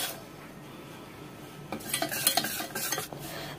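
Spicy sauce is stirred into paneer pakora batter in a bowl, with a quiet start, then a run of scraping and clinking strokes from the utensil against the dish.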